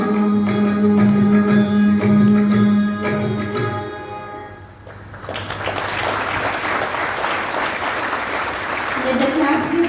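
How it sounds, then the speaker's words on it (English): Audience applause at a school sports meet closing ceremony with cricket prize distribution: a devotional song with voices ends, then broad sustained clapping from a large crowd swells and continues to the end. "Let the claps be louder."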